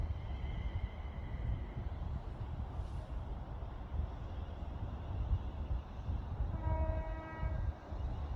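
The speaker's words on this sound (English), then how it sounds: "And we have the London Northwestern railway train going to Crewe at platform 1." London Northwestern Railway train bound for Crewe pulls into platform 1 at Lichfield Trent Valley on the West Coast Main Line: a continuous rolling rumble, a faint tone early on, then a clear horn or whistle near the end.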